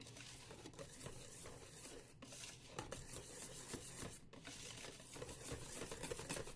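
A spoon or whisk stirring gluten-free chocolate spinach cake batter with cornstarch in a bowl, a close, quiet, continuous scraping and rubbing with occasional clinks against the bowl, no talk.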